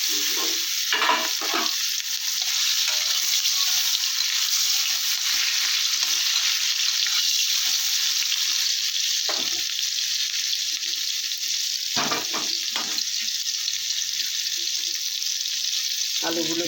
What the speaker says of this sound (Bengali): গরম হতে দিলাম। হয়ে গেছে, কালো জিরে দিয়ে দিলাম।